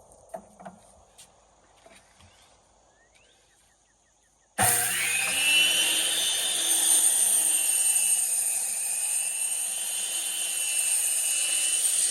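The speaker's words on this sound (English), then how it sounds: "First thing we're gonna do is cut that up and down." A table saw cuts into a 1906 Walden socket wrench, starting abruptly after quiet handling noises and running as a loud, sustained high-pitched whine with grinding for the rest of the stretch.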